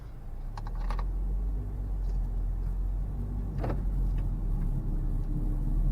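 A 2017 Honda Civic drives along with the air conditioning on low, giving a steady low rumble of engine and road noise inside the cabin, broken by a few faint clicks and light knocks.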